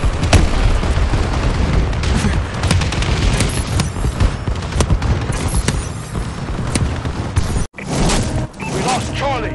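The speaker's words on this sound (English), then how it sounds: "Friendly bombing run incoming." Explosions from a friendly bombing run in Call of Duty Advanced Warfare crash in a dense, continuous barrage of booms and blasts, with a brief cutout near the end, under game radio chatter.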